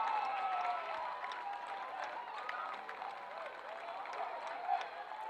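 A home crowd cheers and applauds after a goal at a semi-final soccer match, a broad, steady roar of many voices and clapping at a distance that holds level throughout.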